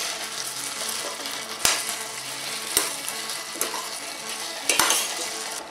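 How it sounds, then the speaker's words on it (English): Potatoes frying in butter in a pan, a steady low sizzle running throughout, broken by a few sharp clinks of a utensil against the pan. "The potatoes are cooking, they're getting done. Still got that butter in there"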